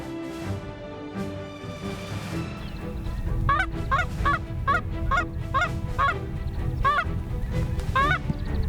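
Geese honk in a series of loud, rhythmic calls, several birds overlapping, after a few seconds of steadier background noise.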